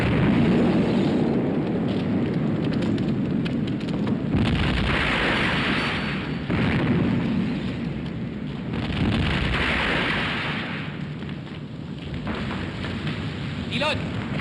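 Heavy shell blasts and rumbling impacts strike the cruiser Exeter during a naval battle in the Battle of the River Plate war film, a loud continuous roar with repeated booming surges and no speech.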